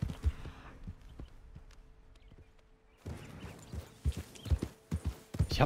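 Horse hooves clip-clop in Red Dead Redemption 2, with sparse steps at first and then a quicker run of hoofbeats later.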